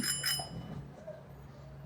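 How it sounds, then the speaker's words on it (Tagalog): A bicycle bell on a steel Japanese surplus bike with a front basket and rear carrier: two quick, bright rings close by that fade into a soft ringing decay. "May bell na rin po."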